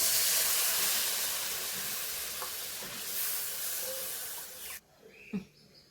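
Water hits a hot pan of coconut-based curry, raising a loud, close hissing sizzle that slowly fades and then cuts off sharply, leaving quieter bubbling and a few faint clinks.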